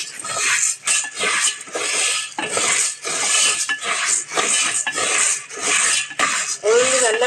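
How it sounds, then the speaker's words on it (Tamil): Black gram (urad dal) roasting over medium heat in a pan, the dry lentils rattling and scraping steadily as they are stirred, with repeated rhythmic scraping bursts and no speech. "உளுந்தை நல்ல பொன்னிறமாக வறுத்தெடுக்கணும் ஆனால் கறியக்கூடாது மிதமான சூட்டில் வச்சு வறுத்தெடுக்கணும்"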